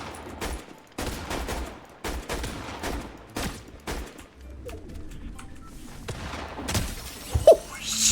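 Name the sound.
twin shotguns firing in the video game Fortnite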